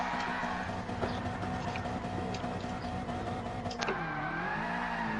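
Engine of a car in a PS4 sim racing game, a steady droning note that shifts pitch near the end as if changing gear, heard continuously and fairly close with no talk over it.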